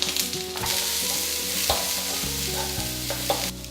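Sliced ginger hits a hot pan and sizzles loudly and steadily while being stirred, with scraping bits between the constant frying hiss and no talk.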